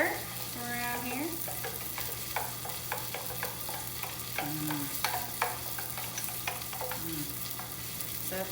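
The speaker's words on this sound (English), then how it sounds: "Give this a little stir around here." Birria sauce being stirred in a pot, with a steady spoon-scraping and bubbling texture and a few sharp clinks, joined by a low constant hum and brief tonal squeaks throughout.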